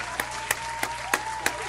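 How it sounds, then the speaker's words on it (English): Sparse, evenly spaced claps, about five distinct hand claps over a couple of seconds, fairly faint over a background hum, at a college football postgame interview. "Can we clap it up for Duck?"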